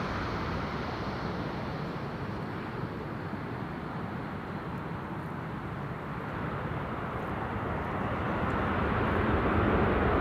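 A Georgian Airways airliner arriving from Tbilisi roars steadily on the runway at Amsterdam Schiphol under thrust reverse, a broad sustained rush of engine noise that swells louder toward the end, heard from a distance with no talk.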